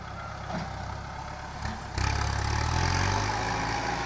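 A tractor engine idles steadily nearby at a road paving site, rising to a louder, deeper rumble partway through and holding there.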